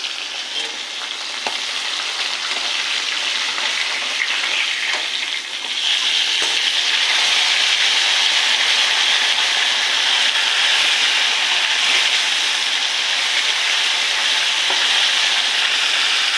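Bhola fish fries in hot oil in a wok, a loud, dense, unbroken sizzle that swells slightly stronger midway and holds steady to the end.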